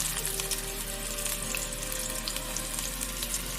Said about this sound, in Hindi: गरम हो चुका है ऑयल,